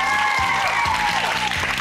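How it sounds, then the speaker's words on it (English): A studio audience on a television game show applauds steadily throughout, a dense, continuous clapping close by with music playing underneath. "Round of applause"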